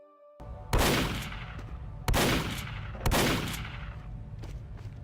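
Gunfire from Team Fortress 2 in an SFM animation: three sharp, loud shot bursts about a second apart, each trailing off into a reverberant roll, with fainter cracks following.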